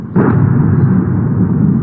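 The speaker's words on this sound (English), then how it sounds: "Massive explosions" A massive explosion from a drone attack on an oil refinery in Russia, heard as a sudden loud, dense roaring blast that stays heavy and rumbling without letting up.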